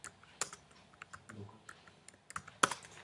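Someone typing on a computer keyboard, scattered sharp key clicks at an uneven pace with a few louder strikes, close by in a quiet room.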